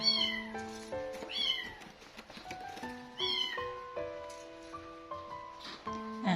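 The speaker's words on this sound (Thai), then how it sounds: "สมาชิกใหม่น้อยของเราก็ร้องค่ะ" Kitten meowing repeatedly, loud and close, a new little cat alone in a cage indoors at home, with high-pitched harmonic cries in quick succession and some background music-like tones.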